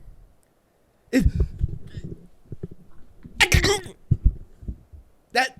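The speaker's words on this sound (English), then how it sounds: "I refuse to believe that's a real sneeze." A person sneezing: three sharp, forceful sneeze bursts spaced a couple of seconds apart, each with a noisy breathy build-up and release, loud and close.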